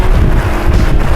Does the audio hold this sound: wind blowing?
yes